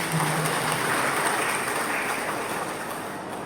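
A large church congregation at a Christmas service applauds steadily and loudly, a dense wash of clapping that holds throughout and eases slightly toward the end.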